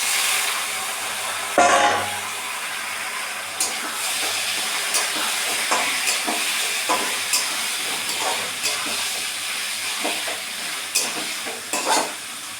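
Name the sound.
stirring onion, garlic and green chilli frying in pan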